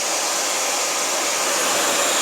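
A hair dryer blows steadily on high setting 3 while drying an animal after its first bath, a loud, continuous rushing whoosh with no pauses.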